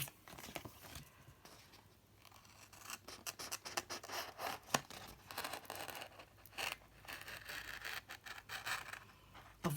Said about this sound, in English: you'll find that your scissors just slide along